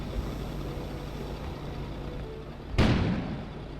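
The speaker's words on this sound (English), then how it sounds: "An explosion suddenly occurred outside." Explosion outside in the video game Kona: a sudden loud boom that decays with rumble over a quiet ambient background.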